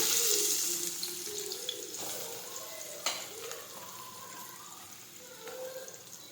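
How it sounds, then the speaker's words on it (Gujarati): Crushed garlic, mustard seeds, cumin and chopped onion tempering in hot oil for a sev tomato curry, a soft continuous sizzle and crackle fading slightly, with a few faint knocks and stirs, close and without talk. "હવે આપણે તેમાં ખાંડેલું લસણ નાખી દઈશું, રાઈ નાખી દઈશું, જીરું નાખી દઈશું, સમારેલા કાંદા નાખીશું."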